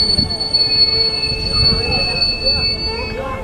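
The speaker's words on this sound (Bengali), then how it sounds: "কিছুটা যাওয়ার পর হঠাৎ করে ট্রেনটা আবারও ঝাঁকুনি খেয়ে থেমে যায়।" A passenger train jolts and grinds to a sudden halt, its wheels letting out loud, sustained high-pitched screeches over a rumbling carriage, heard up close from inside.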